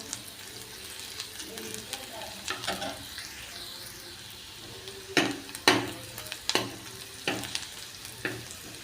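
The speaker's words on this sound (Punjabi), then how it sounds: "ਹੁਣ ਪਿਆਜ਼ ਦਾ ਲਾ ਰਹੇ ਹਾਂ ਜੀ ਤੜਕਾ" Onion and garlic tempering for moong dal sizzles softly in hot oil, with several sharp spoon-against-pan clatters and stirring scrapes standing out near the end.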